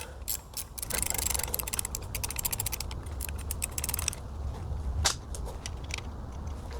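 Rapid clicking ratchet wrench working on a Tesla large drive unit during a rebuild, bursts of close, sharp pawl clicks in quick runs with brief pauses between strokes.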